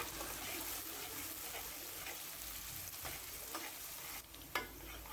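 Onions stirred and frying in a pan for Old Dhaka style beef tehari, a steady close sizzle with scraping stirs throughout and a sharper clatter near the end.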